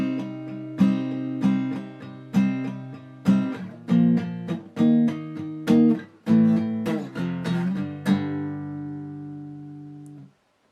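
Guitar plays a part from a song at full speed, a rhythmic run of plucked chords and notes that rings close and clear, then lets the last chord decay to silence.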